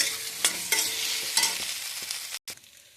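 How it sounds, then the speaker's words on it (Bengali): Potato and pointed gourd stir-frying with spices in a pan: a steady broad sizzle with several sharp scrapes of a spatula, a brief dropout near the end, no voices. "এবার আলু পটল দেব,"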